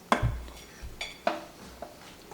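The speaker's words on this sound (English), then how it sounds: "we're putting it into our laboules, which are just gorgeous, gorgeous bowls" Ceramic clinks and soft scrapes as zucchini vegetable soup is ladled into gorgeous bowls, a few close, separate knocks spread across a quiet stretch with no talking.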